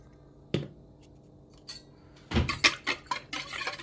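Quiche batter of eggs, milk, salt and spices is whisked in a bowl, with scattered metallic clinks that start sparse and grow quicker and louder toward the end.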